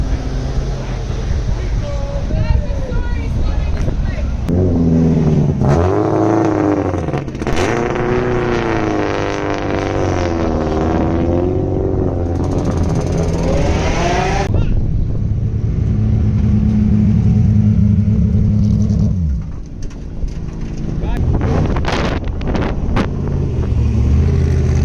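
Cars accelerating hard down a drag strip at a car festival, loud engine roar rising and falling with passing vehicles, wind buffeting the microphone and people talking underneath.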